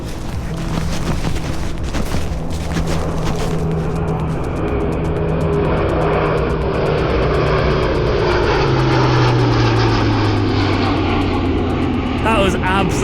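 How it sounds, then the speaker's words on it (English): A propeller plane roars overhead, its engine drone swelling loud and then sliding lower in pitch as it passes, with excited voices near the start. "Wow, look at this plane coming!"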